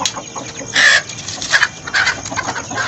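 A hen clucks nearby in short, insistent bursts, a few louder squawks among softer clucks.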